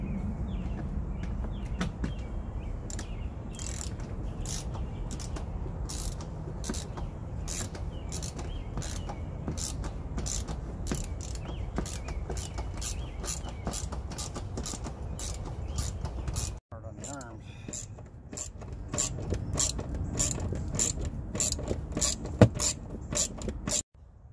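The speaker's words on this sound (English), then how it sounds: "It takes a T40 Torx bit to remove the screws in here." Screws being removed with a T40 Torx bit, giving steady close mechanical ratcheting and creaking with rapid regular clicks throughout, briefly pausing before resuming.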